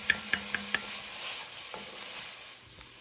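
Garlic cloves browning in a pot for a farmhouse-style creamy chicken soup give a soft, steady sizzle, broken early on by four quick clinks of a utensil stirring against the pot and a few faint knocks later.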